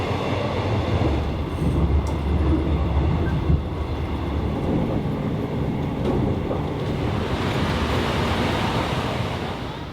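Steady rumbling roar of a local train running between Singapore and Kuala Lumpur, heard from inside a carriage with continuous low wheel and track noise and a brief faint rattle, no voices.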